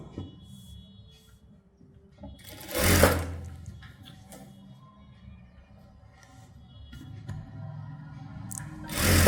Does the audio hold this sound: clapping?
no